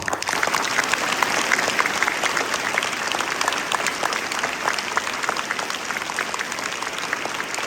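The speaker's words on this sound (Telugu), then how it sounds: "ఒక్కసారి గట్టిగా మీ అమ్మా నాన్నలు క్లాప్స్ కొట్టండి." Parents in a school audience at SPR School, Yellapur, clap loudly and steadily in a dense, continuous burst of applause that fills the space for several seconds.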